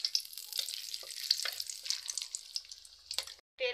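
Dried red chillies, cardamom, cinnamon, cloves and bay leaves dropped into hot oil for a country chicken dish crackle in a soft, close, bubbling sizzle that cuts off briefly near the end.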